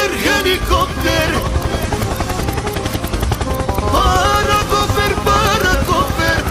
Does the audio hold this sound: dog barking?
no